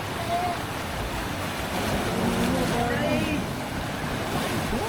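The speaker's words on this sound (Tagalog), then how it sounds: "Lakas ng alon guys." Strong sea waves wash and roar against a beach at Ternate, Cavite, a continuous rumbling surf roughened by wind noise, while people talk faintly in the background.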